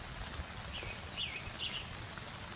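Steady rain falling outdoors during a spring overnight camp, an even hiss throughout, with a few faint bird chirps in the background and no talk.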